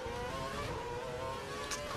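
Williams Formula 1 car in the F1 2012 racing game, its engine whining steadily with sustained harmonic drone as it dives into the pit lane at the Chinese circuit, loud and continuous throughout.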